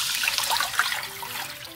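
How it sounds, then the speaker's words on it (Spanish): Water trickles and splashes into a frying pan that still holds cooked seasonings for Venezuelan funche, a steady light pour heard alone at close range. "por acá mismo le voy a agregar 5 tazas de agua"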